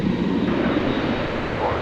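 A UPS Boeing 767 cargo jet's engines spool up at Dallas Fort Worth airport, heard as a steady, moderately loud whine and rumble in the background.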